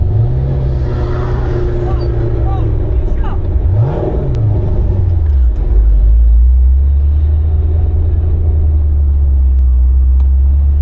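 Supercharged Corvette C6 Z06 engine droning steadily while driving at the Nürburgring, with a brief rev rise and fall midway, loud and continuous under a faint talking voice.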